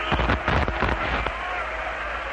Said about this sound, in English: Got an excellent crowd tonight.